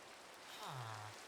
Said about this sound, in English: in the jungle, I would not be directly exposed to the rain